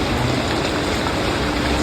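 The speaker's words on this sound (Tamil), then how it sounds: "நாங்கள் வந்து இப்போ மழை பெய்யுது" Heavy rain pours down in Chennai during a storm, a dense, steady wash of hiss with no pauses and no talking over it.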